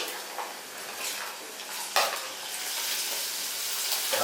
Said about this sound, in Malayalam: ഈ റാഡിഷ് ഇല്ലേ, ഇത് നമുക്ക് ഇതിലേക്ക് ഇട്ടൊന്ന് നന്നായിട്ടൊന്ന് വഴറ്റി മൂപ്പിച്ച് എടുക്കാവേ.